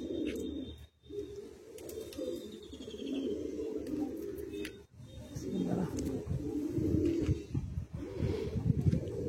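Andhra-bred Madrasi high-flyer pigeons, a kalsira hen among them, coo in deep, continuous rumbling bursts nearby, broken by a couple of sharp gaps, with soft chirps drifting over the top.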